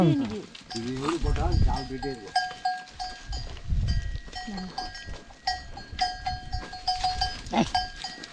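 Cattle at a farm feeding time give low calls and shuffling noises. Several people talk nearby throughout.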